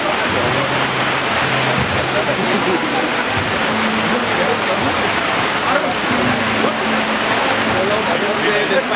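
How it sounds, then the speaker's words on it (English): Steady rain pours down over an outdoor gathering at Shillong Golf Course in Meghalaya, a dense, even hiss that fills the whole stretch, with faint murmuring voices underneath. "Despite the rain."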